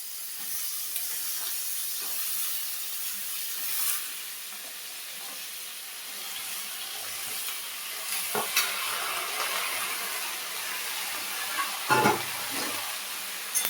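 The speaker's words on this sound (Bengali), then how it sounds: "এখন কাঁচা লঙ্কা, পেঁয়াজ কলি, আলু সব আমি একসঙ্গে দিয়ে দেবো।" Green chilli, spring onion and potato fry together in a hot pan, a steady bright sizzle with occasional scrapes and stirring knocks, close and continuous with no talking.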